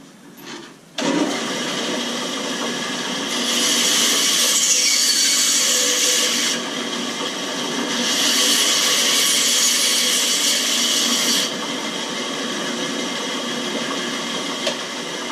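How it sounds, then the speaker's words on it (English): A power saw cutting off the top of a wooden tenon for a homemade mallet, a steady loud motor whine starting abruptly and running throughout, with two louder stretches as the blade bites into the wood. "chop off the top of my tenon"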